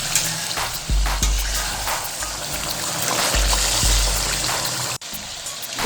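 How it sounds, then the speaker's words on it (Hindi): Chicken meat sizzles and fries in a pan for chicken shinwari, a steady bright hiss broken by scraping and stirring knocks of a utensil against the pan. "अब हम गोश्त को उस वक्त तक पकाएंगे जब तक इसका पानी अंदर से खुश्क ना हो जाए"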